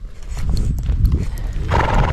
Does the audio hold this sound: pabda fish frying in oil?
no